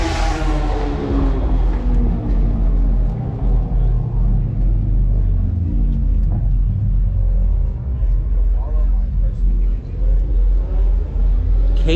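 A K-swapped car with power steering and AC idles at a car meet, giving a deep, loud, steady rumble close by, with people talking over it.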